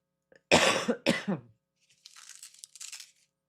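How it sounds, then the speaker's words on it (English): Two loud, harsh coughs close to the microphone, followed by a softer rustling, crinkling sound. "I had a little coughing fit there"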